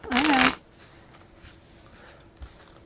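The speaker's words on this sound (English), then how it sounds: "let me just shuffle it one more time" Board game cards for Effortless being shuffled, one short dense riffle burst up close at the start, followed by quiet room tone with a faint soft tap.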